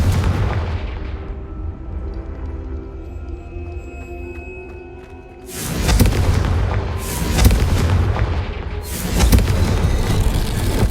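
A Confringo spell explosion in Hogwarts Legacy sets off three heavy, booming bursts in quick succession after a stretch of low rumbling ambience, each loud and cracking with a rolling tail.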